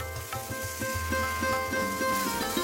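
A spice paste of turmeric and chili powder fries with a splash of water for a Bengali katla fish curry with cauliflower, making a soft, close sizzle with light bubbling and faint tonal hum underneath.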